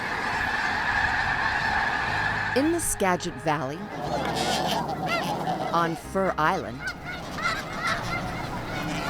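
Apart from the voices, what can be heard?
snow geese honking in Skagit Valley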